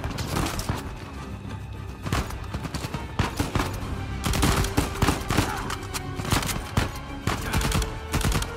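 Heavy gunfire in the PS4 Pro action game Uncharted 4, with dense bursts of shots and rapid volleys crackling throughout, loud and close, alongside game sound effects and no speech.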